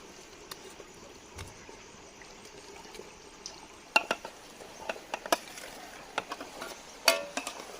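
Raw chicken pieces going into a biryani pot: quiet at first, then a run of soft wet thuds, clatters and splashy crackles, close and intermittent, with a faint background hiss.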